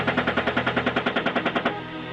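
Military machine gun firing a rapid, evenly spaced burst of about fifteen rounds, loud and close, ending abruptly into a lingering rumble.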